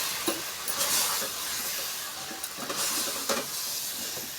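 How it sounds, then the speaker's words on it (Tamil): Chili, coriander and turmeric powder stirred in hot oil in a frying pan for a drumstick kuzhambu, a steady soft sizzle broken by a few scraping strokes of the spoon. "நம்ம நல்லா கலந்து விட்டுக்கலாம்"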